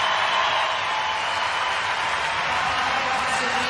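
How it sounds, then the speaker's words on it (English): A large arena crowd at the CrossFit Games roars in a continuous, dense wall of cheering and shouting, loud and sustained throughout with no pauses. "to be in front of this crowd, to hear this noise"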